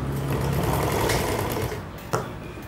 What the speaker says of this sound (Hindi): आ देखो मैं थोड़ा सिलाई मार के दिखा रही हूँ,